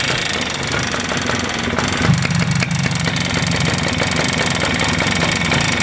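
A Suzuki Address 110 scooter engine at low revs, with a persistent knocking from inside the motor. The ticking clatter runs evenly over a rough idle drone, recorded close and loud, with no voices.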